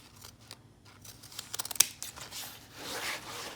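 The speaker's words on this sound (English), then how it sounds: "First, what I'm going to do is clip all my corners." Scissors clipping the fabric corners of a sewn pillow cover: a quick run of four or five close, crisp snips, followed by soft rustling of cloth.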